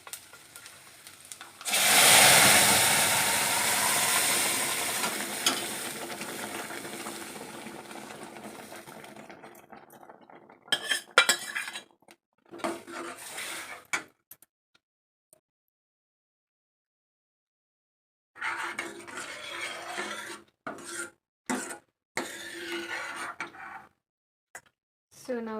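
Cooked dal and tomato go into a hot pan over a garlic tempering for tomato rasam. A loud, close sizzle bursts up and holds for several seconds, then fades into scattered clatter and stirring, with a short silent gap.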